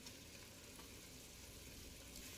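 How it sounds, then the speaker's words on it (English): Cilantro and jalapeños sizzling in grease inside a Ninja Foodi, a soft, steady crackling fry that stays even and fairly quiet, with no talking. "So the cilantro is sizzling in the grease"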